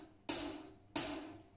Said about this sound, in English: So this is the cymbal, the metal one.